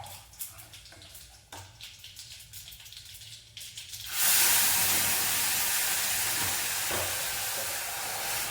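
Tempering for Sindhi dal, a loud broadband sizzle and hiss that bursts in suddenly partway through and keeps going steadily, after quieter kitchen clatter and scattered small clicks.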